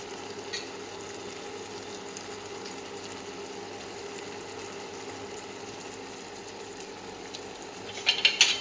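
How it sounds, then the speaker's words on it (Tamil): Peas, chickpeas, boiled potato and paneer being stirred in a gravy for a vegetable curry, giving a steady soft sizzle with a few louder scrapes near the end, no voices. "போட்டு லேசாக ஒரு கிண்டி விட்டுட்டு"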